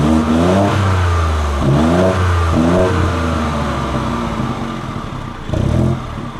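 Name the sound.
2019 Mini Cooper 3-door hatch exhaust, engine revving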